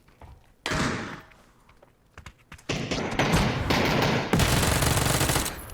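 Bursts of automatic gunfire in the battle-royale game PUBG, near and loud, with a short volley, a lull, then sustained heavy fire with thuds and impacts running to the end.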